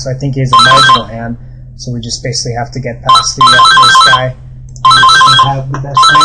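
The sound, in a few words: phone ringtone ringing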